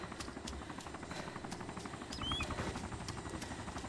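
A helicopter in the video game DayZ Origins passes overhead, a steady whirring roar holding through the whole stretch with a slight swell midway, heard alone without talk.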